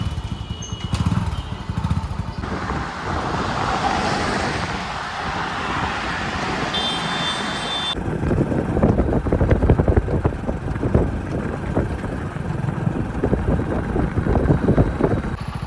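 Motorcycle engine starting up and then ridden along an open road, a steady broadband engine roar with heavy wind buffeting growing louder after the first half, no talk.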